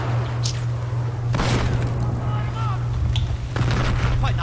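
Battlefield 4 gunfire on Xbox Series X, a few sharp booming shots at irregular intervals over a steady low game hum, with faint voices in the background.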